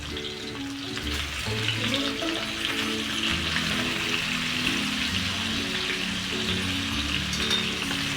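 Vegetables for aviyal being stirred in oil with turmeric, chili powder and salt, giving a steady soft sizzle and scraping rustle that runs evenly throughout, close and moderately loud with no talking.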